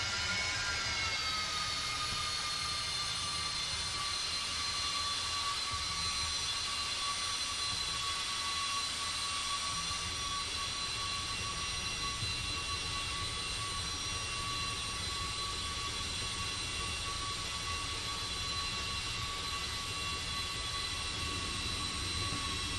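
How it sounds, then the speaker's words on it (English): Airliner jet engines in the X-Plane 11 flight simulator spool up with thrust reversers, a steady loud roar carrying high whining turbine tones that stays constant and close throughout, with no voices. "Couldn't get the thrust reversers to come on until way late."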